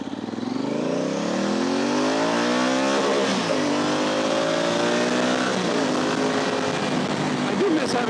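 A Honda Africa Twin motorcycle's engine hums loud and close while riding, its tone climbing steadily with gear-change dips over a constant wash of road and wind noise.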